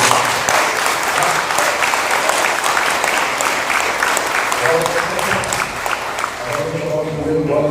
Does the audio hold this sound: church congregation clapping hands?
yes